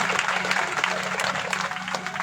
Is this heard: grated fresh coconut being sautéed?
no